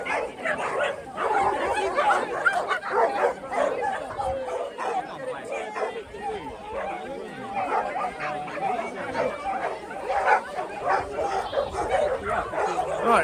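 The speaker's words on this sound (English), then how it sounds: "Dogs are going mad." Canicross dogs barking, yipping and whimpering in an excited chorus at a rainy race start, continuous and close, mixed with a crowd of runners chattering throughout.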